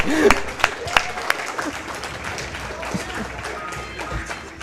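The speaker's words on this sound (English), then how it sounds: "Why are they clapping?" An audience claps at a Games Done Quick speedrun event, with a few sharp, distinct claps rising out of a dense, steady patter that carries on throughout.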